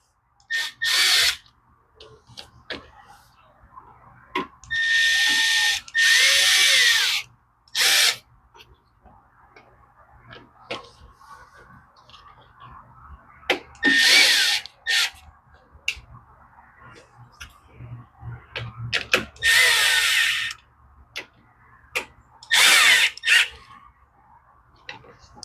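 Short bursts of a power tool snugging a part on a Honda HRX 217 mower that won't start, several separate whirs of a second or two each, with quiet clicks and handling noise between them.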